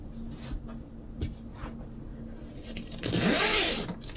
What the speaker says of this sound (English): I just open the zipper